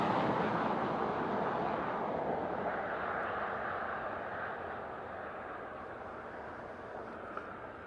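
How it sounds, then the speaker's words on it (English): An Aegean Airbus A320neo arriving from Athens at Dublin Airport, a steady broad jet rumble at moderate distance that slowly softens, with no talk. "This is our Aegean Neo in from Athens."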